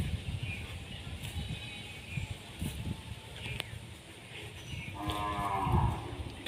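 Cattle lowing in a village yard: a deep, drawn-out moo near the end, with a softer earlier call, over outdoor background noise and faint voices.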